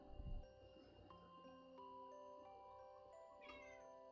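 A cat meows softly in the background over a steady low hum, with a brief low thump at the start; no one speaks.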